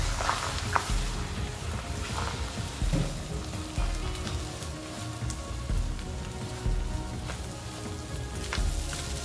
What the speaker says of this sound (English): you add the beaten egg mixture and start scrambling it